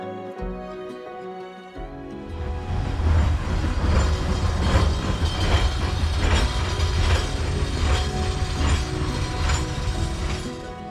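In Thurmond, West Virginia, a passing train rolls past close by with a loud, dense clatter of wheels and rhythmic clanks, starting suddenly after a quiet moment and continuing steadily.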